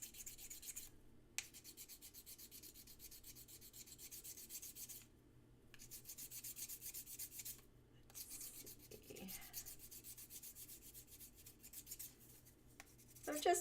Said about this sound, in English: I'm just doing a little bit of refining to my sanding, that's all